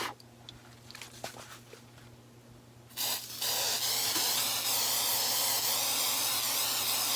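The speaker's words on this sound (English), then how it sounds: "what I'm using is Blair Very Low Odor Spray Fix" Blair Very Low Odor Spray Fix sprayed onto a pastel landscape painting: after a few seconds of quiet room tone, a loud, steady aerosol hiss starts and continues unbroken to the end, close to the listener.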